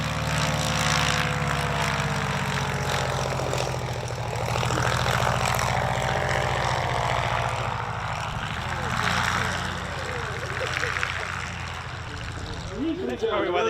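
A 1911 Curtiss Model D replica propeller aircraft rolls for takeoff at a warbird weekend on a grass runway, its engine droning steadily and droning on under continuous talking.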